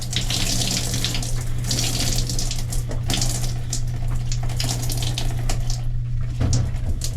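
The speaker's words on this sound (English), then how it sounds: "you put your clothes up around the handle and twist all the water out." Wet clothes twisted around a cruise ship shower handle, with water streaming and splattering steadily and loudly nonstop, like a running tap, along with a constant low hum.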